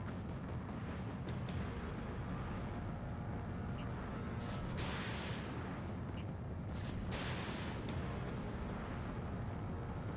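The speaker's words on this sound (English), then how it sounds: "Missile hit." A missile strikes its target in a video game, with deep, booming blasts and bursts over a continuous roar that swells and fades several times across the span.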